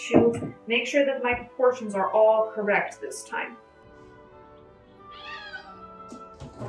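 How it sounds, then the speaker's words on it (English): A cat yowls and caterwauls in the background while a person talks over it at a home kitchen baking session; the wavering cries come near the end after the speech fades. "You may also hear a screaming cat in the background."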